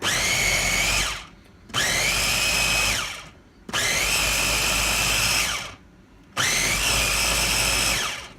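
A $33 Ninja blender whirs loudly while mixing salsa, running in four long steady bursts separated by short pauses where the motor winds down.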